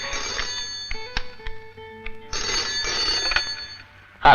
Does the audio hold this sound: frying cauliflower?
no